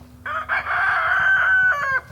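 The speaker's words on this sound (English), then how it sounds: "It's a rooster!" A rooster crows loudly and close by, one long drawn-out cock-a-doodle-doo with a few short breaks near the end, heard on its own.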